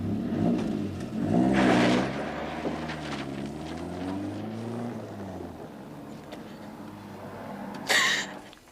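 A 1970s-era car accelerating and pulling away, its engine rising in pitch and fading into the distance over several seconds, with a brief louder rush near the end.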